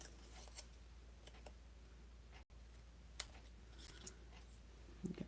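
Scissors trimming off extra material, faint quiet snips and clicks scattered over a few seconds with one sharper cut near the middle and a soft low hum underneath.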